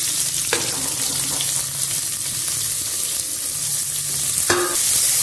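Onions fry in a pan alongside chopped garlic, making a continuous close crackling sizzle broken by a couple of sharp stirring clicks.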